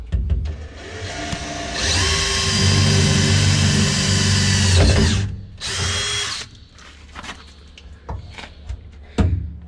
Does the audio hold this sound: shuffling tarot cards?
no